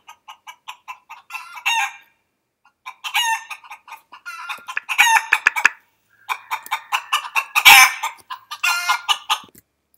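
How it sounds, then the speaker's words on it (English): Recorded chicken sounds are played back through a computer from an mp3 file: rapid clucking pulses in repeated bursts with short gaps, building into louder squawks and a crow-like call, close and clear without talk. "so it's just chickens."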